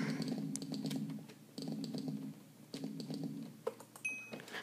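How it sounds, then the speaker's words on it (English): Rapid clattering keystrokes on a computer keyboard come in three bursts, close and fairly loud, with a brief high electronic tone near the end, during a Minecraft paintball game session. "Nice typing there."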